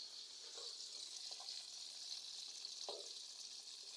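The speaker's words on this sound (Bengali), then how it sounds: "বেগুন ভাজা হচ্ছে" Brinjal (eggplant) fries in a pan in a village home kitchen, a soft, even sizzle heard faintly, with a couple of light stirring taps.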